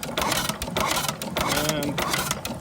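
A 6 HP International Harvester Famous stationary engine runs on gas from its fuel bowl. It gives a rapid, steady mechanical chugging and clatter, close up, with someone talking over it.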